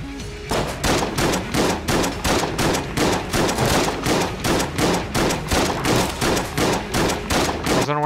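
Rapid, evenly spaced gunfire from the video game Enter the Gungeon, a loud rhythmic stream of about a dozen shots per several seconds running continuously without talk.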